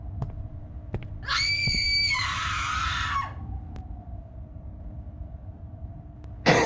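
A scream rings out in a horror video game, a loud wavering shriek lasting about two seconds and then sliding downward, set against a quiet hum with faint footsteps, and a sharp burst at the end.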